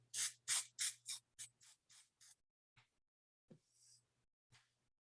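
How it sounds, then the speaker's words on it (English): A spray paint can hisses and spits in a series of short bursts while stenciling, about nine quick sprays in a slowing rhythm, then a pause and a few more scattered hissing bursts, close and alone. "it doesn't bother me when my spray can starts to spit"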